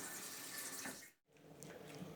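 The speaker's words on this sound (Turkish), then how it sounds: "Ben bir elimi yıkayayım da." Water from a kitchen tap runs steadily as hands are washed beneath it, a close, continuous splashing hiss with a brief dip midway.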